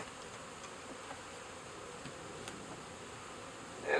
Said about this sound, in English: there's a few bees left in this super